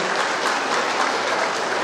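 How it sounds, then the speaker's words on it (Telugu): Audience applause greets a minister at a public gathering, a short burst of steady, dense clapping from many hands filling the whole moment. "అందరూ కూడా గట్టిగా చప్పట్లతో లక్ష్మణ్ గారి స్వాగతం పలకాలని కోరుకుంటున్నాం"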